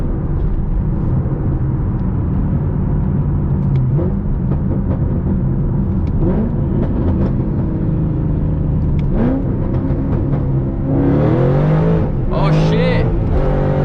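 A Mustang Shelby GT500 with a smaller supercharger pulley and Lund tune roars hard under throttle on a hot day, its rear tires breaking loose in a rising burst near the end, while people talk and exclaim over the engine.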